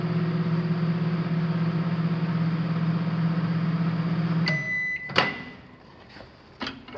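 An Oster microwave oven running with a steady electrical hum that cuts off after about four and a half seconds, followed by a few sharp clicks and a beep.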